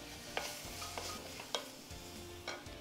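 Ginger garlic paste and spices sautéing in a pan ahead of mashed potatoes, a soft low sizzle punctuated by a few sharp spoon taps and stirring clicks, quiet and close with no talking.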